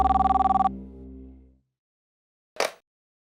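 An old-style telephone bell rings in a fast trill that stops abruptly, its tone fading away, followed after a pause by a short clunk as the receiver is lifted, in an Indian TV drama.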